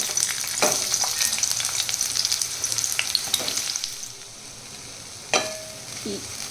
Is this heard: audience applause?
no